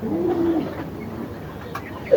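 A pigeon, back home after two days lost and badly starved, gives a short, soft coo close by, with a little faint talk in the background.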